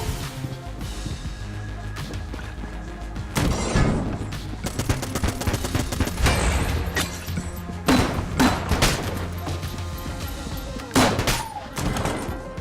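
Rapid M16 rifle fire from the Nintendo Switch game Enter the Gungeon, loud bursts of gunfire over busy game music, with heavier thumping blasts around the middle and end.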